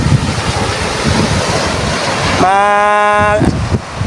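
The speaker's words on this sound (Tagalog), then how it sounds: "Naririnig niyo po yung hampas ng alon." Steady roar of surf breaking on a shore, with wind buffeting the microphone; near the end a brief tonal whistle-like sound cuts through.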